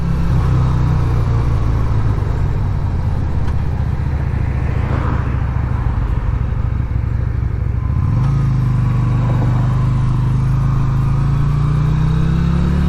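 A 1988 Yamaha Virago 250 motorcycle engine runs steadily at close range, its low droning hum holding through the clip, dipping briefly and then rising in pitch as the throttle opens, with no talk over it.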